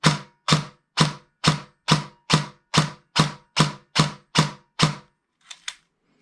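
Airsoft gun firing with no precock on a 14.8 volt battery: eleven sharp, evenly spaced shots about half a second apart, loud and close, then a couple of faint clicks.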